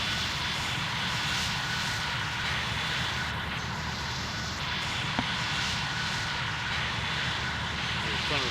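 A UPS Boeing 747 in the FSX flight simulator gives off a loud, continuous engine drone heard from outside the aircraft, steady and unbroken throughout, with one faint tick midway.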